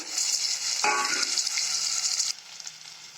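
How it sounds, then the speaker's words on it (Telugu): Tomatoes go into a hot pan for a village-style drumstick and lentil curry, giving a steady close sizzle with a sharper crackling burst as they land, then easing to a softer fry. "ఇందులో టమాటాలు వేసుకుంటున్నాం కొద్దిసేపు మగ్గనివ్వాలి ఇవి"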